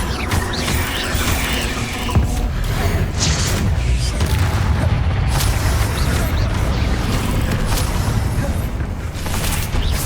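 Repeated Bombarda spell blasts in the video game Hogwarts Legacy boom loudly and near, overlapping with rumbling magical effects and continuous combat noise, without voices.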